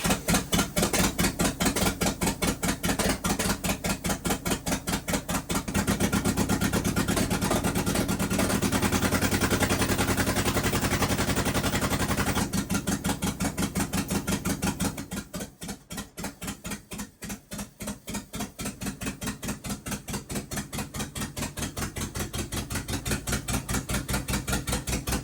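An International Scout engine running steadily after its carburetor was cleaned and tuned, a loud continuous close-up rumble with fast regular firing pulses that dips briefly in level before settling back.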